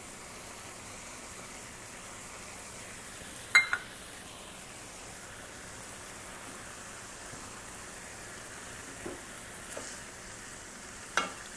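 Ground beef with spices cooking in a pan for low carb beef picadillo, a steady soft sizzle throughout, broken by a few sharp scrapes or taps of a utensil against the pan.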